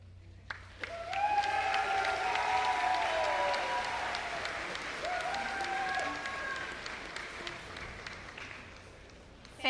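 A commencement ceremony audience breaks into sustained applause, many hands clapping together in a dense, even wash that swells quickly, holds for several seconds, then slowly tapers off.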